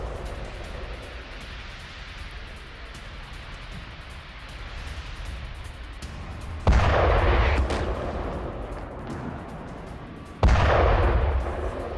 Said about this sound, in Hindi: सेवास्तोपोल में रात के वक्त हुए बैक टू बैक ये धमाके